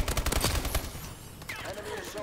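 Rapid bursts of video game gunfire crackle in quick succession, close and dense, with a player's voice talking over the shots.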